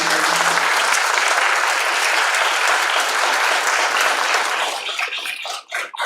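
Sustained applause from a crowd at a college cultural programme, dense steady clapping that thins out near the end.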